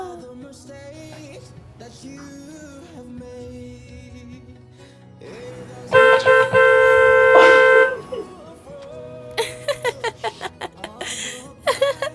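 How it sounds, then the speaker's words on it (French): A car horn honks at a gate in a long sustained blast, then a run of short quick toots, over a bed of murmuring voices. "Ça klaxonne au portail"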